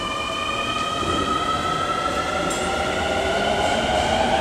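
A train pulls into a Tokyo station platform, a steady loud rolling rumble with bright tonal wheel and motor whine holding throughout, no voices.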